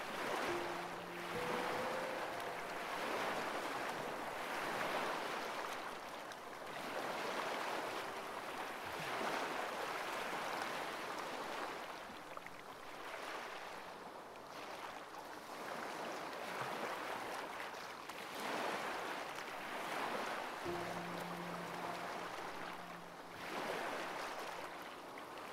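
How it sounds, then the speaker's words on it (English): Gentle sea waves murmur and wash in a steady, continuous swell, a soft broadband ocean wash that rises and falls in slow surges across the whole stretch with no voices. "The sounds of the murmuring sea gently lull them into a beautiful dream."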